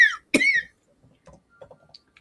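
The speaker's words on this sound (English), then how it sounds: "I'm going to try not to cough." A single sharp cough stands out clearly, with a short throaty sound just before it and faint, scattered small noises trailing after, recorded close up in a quiet room.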